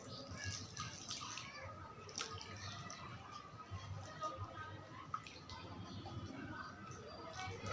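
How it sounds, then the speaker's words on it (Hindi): Water trickles and drips into an Adenium plant pot, a quiet, steady splashing with small intermittent drops, faint and close, with no talk over it. "अब इसमें हम पानी डाल देंगे"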